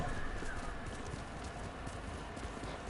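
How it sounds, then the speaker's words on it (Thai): A summoned video game horse trots with steady, rhythmic clip-clopping hooves throughout, fairly quiet and even in pace. "มาเราเรียกม้าก่อนคางอิ"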